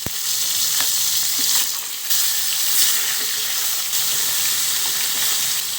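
Tilapia frying in hot cooking oil, a steady loud crackling sizzle filling the whole stretch with a few sharper pops, close by and with no voices.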